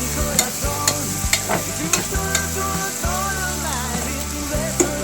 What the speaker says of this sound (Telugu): ఉల్లిపాయలు ఇంతలా మగ్గితేనే కూర టేస్ట్ వస్తుంది.